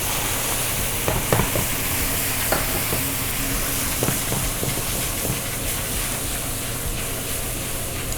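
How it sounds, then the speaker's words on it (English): Steady sizzling and frying as white wine hits a browned risotto base in a hot pan, a continuous hiss with faint scattered clicks of stirring, no voices. "We're gonna add the white wine, deglaze."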